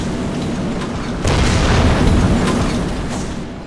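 A burning ship in the naval battle game Shogun 2 gives off a loud, sustained roar and crackle of fire, swelling after a deep boom-like onset and fading slightly toward the end.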